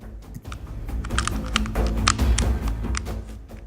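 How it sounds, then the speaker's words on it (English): A Tokyo Marui Five-seveN gas blowback airsoft pistol's plastic slide is fitted back onto its frame, giving a run of sharp close taps, clicks and light knocks in an irregular rhythm. "Reassembling the slides to the frame is just as easy as stripping the gun."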